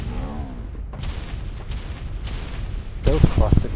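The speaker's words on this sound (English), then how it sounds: "Those cluster grenades look epic." Cluster grenades going off in a shooter video game, a run of deep booming blasts and rumbling detonations across a few seconds, with a voice speaking over the end.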